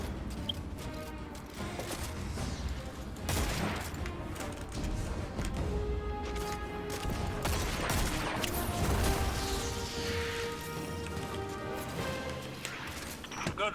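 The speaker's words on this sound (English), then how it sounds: "this machine gun is quite good" Machine gun fire in the Destiny 2 video game, heard as scattered bursts of shots mixed into dense game sound with music and other effects throughout.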